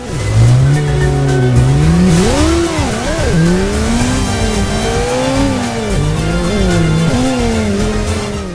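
Motorbike engine revving in the video game Headhunter, a loud continuous engine drone with rising and falling pitch sweeps as the throttle opens and eases, steady and close throughout.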